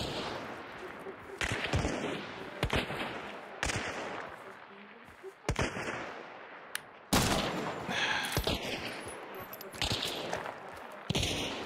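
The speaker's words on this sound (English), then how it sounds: "That's a chaos bomb" Crackling, popping bursts from a chaos bomb in the Hunt: Showdown video game, a dense run of sharp snaps and cracks going on for several seconds, close and loud, with other game noises around it.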